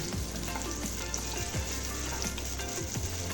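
Chopped onion fries in hot oil left from frying koftas, a dense continuous sizzle with an even, close hiss and no talking.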